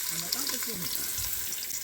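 Onions dropped into hot oil alongside prawns, cooked outdoors by a creek, giving a broad hissing, sizzling wash under a voice talking.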